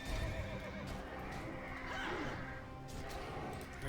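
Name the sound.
horse neighing after being gouged in the video game World of Warcraft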